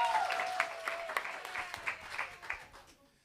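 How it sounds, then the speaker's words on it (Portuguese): Scattered audience clapping at a seminar of people affected by dams, a modest round of uneven claps over a faint tone, tapering off in the last second. "uma salva de palmas para vocês todas que estão aqui nessa luta"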